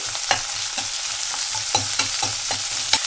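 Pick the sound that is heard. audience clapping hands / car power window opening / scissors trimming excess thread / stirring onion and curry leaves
stirring onion and curry leaves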